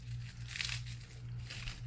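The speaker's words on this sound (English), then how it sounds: "I'm gonna put some crackers in here" Crackers are crushed by hand into a Mountain House chili-mac camping meal pouch, giving soft, continuous crinkling and crunching at close range, faint and without talk.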